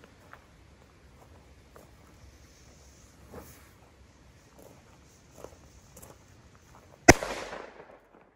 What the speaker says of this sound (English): we got a color salute. This goes up to a yellow flare.